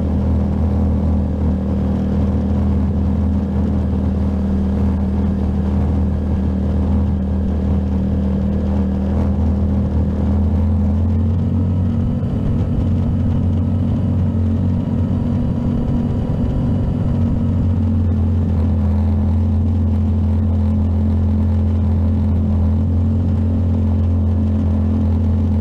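An ATV rides around a forested RV campground with a 5 mph limit, its engine a loud, steady close rumble that swells slightly midway as it cruises along continuously.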